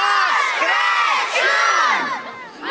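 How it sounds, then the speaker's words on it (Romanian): A crowd at a Christmas tree event in Romania shouts together over and over, calling loudly for Santa Claus in rising and falling cries that are dense and close. "Îl strigăm pe Moș Crăciun. Da, tare ca să vină"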